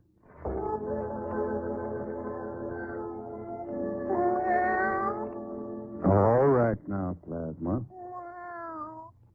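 A cat meows several times in short, rising and falling calls near the end, following a longer sustained drawn-out cry, with no voices audible.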